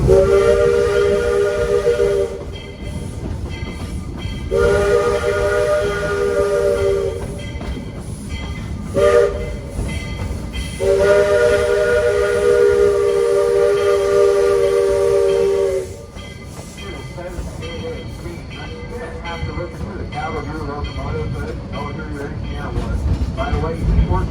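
Steam whistle of a Georgetown Loop Railroad steam train in Colorado, sounding three long, loud harmonic blasts with a short toot between them, over rumbling train noise and hiss.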